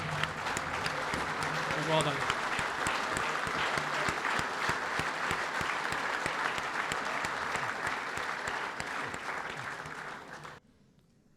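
Loud, sustained applause from a standing audience at a rugby gathering, dense and even clapping for about ten seconds before cutting off abruptly, with a short spoken remark near the start.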